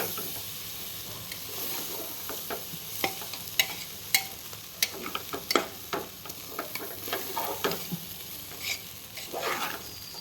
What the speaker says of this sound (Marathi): आता हे थोडा मसाला खाली वर करून घेऊ.